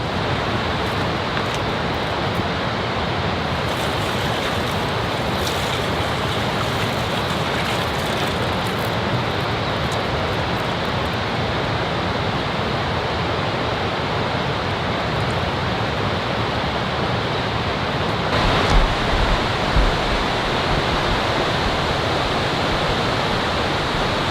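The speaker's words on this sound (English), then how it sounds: "I'm still gonna dump some water on it just in case." Water poured over a campfire that burned the night before, a steady broadband hiss and splash running continuously and fairly loud, with a slightly stronger surge near the end.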